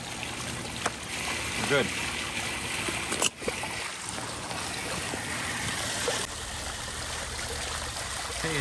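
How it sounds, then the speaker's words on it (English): A repaired old water fountain splashes and trickles steadily, water spattering onto its surroundings close by, while a person talks briefly over it and a few knocks break in. "You can see how much it splashes."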